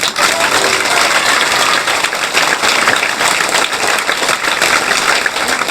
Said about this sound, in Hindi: अभी जोरदार ताली बजाओ